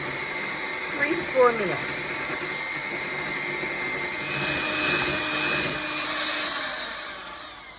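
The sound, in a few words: hand mixer whisking egg whites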